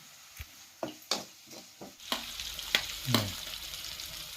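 Food sizzles in a hot pan while a utensil scrapes and stirs in a series of separate strokes, each close and fairly loud, with a steady frying hiss underneath.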